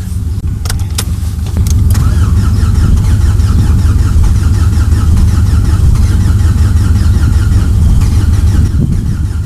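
Car with a robotized gearbox revving in frost after a hard cold start, throttle held at a steady drone for several seconds, loud and close, with a few sharp clicks near the start.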